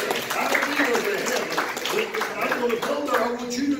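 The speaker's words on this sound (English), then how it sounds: "Oh, give the Lord a hand clap." Church congregation at a Sunday evening service clapping hands, a steady patter of claps under a preacher's voice talking over it.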